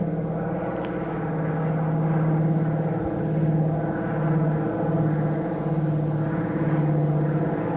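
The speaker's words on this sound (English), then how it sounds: "I think we have an airplane going overhead." A propeller airplane drones steadily overhead above a cemetery, a constant low engine hum with a faint rhythmic pulse and no talking.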